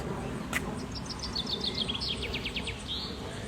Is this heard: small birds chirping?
yes